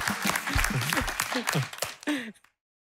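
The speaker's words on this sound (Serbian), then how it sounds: "Ajmo jedan aplauz, ajmo!" A studio audience on a television talk show applauds, a busy patter of claps mixed under lively voices before cutting off abruptly into silence.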